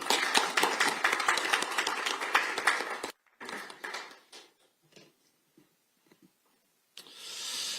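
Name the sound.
audience applause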